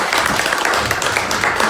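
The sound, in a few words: congregation clapping hands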